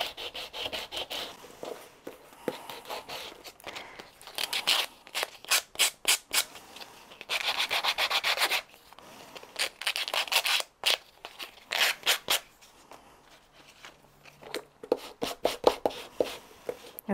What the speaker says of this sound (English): I'm just going to take the shine off them with this little tool.